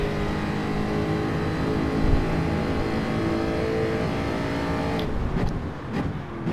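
A Jaguar Group 3 race car engine in Gran Turismo 7, droning steadily at high revs with a constant tonal whine, then briefly shifting and dipping near the end.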